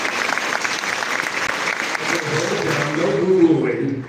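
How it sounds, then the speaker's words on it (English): Audience at a Comic Con panel with an actor breaks into steady, dense applause that swells toward the end, with cheering voices mixed in. "Give her some applause."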